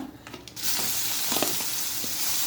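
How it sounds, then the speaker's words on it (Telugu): Black gram, split chickpeas, dried red chillies and curry leaves tip into hot oil for a tempering, bursting into a loud, steady crackling sizzle close by that holds for a couple of seconds. "మినప్పప్పు, పచ్చిశనగపప్పు, ఎండుమిరపకాయలు, కరివేపాకు నూనెలో ఒక్కరవ వేగనివ్వాలి."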